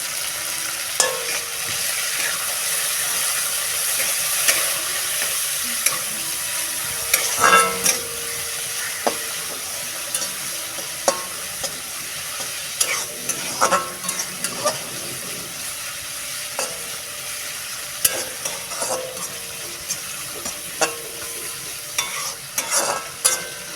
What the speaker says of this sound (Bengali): ফার্স্টে উচ্ছেগুলো ভালো করে ভেজে নেব কড়া করে